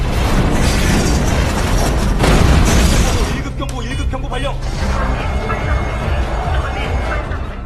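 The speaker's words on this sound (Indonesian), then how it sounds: "si bos Chow mulai meledakkan lokasi yang sempat dia taruh bom." Bomb blasts set off in a heist film, a loud dense rumbling roar across the first few seconds, then fading into a lower crackling and clattering wash of debris and film score.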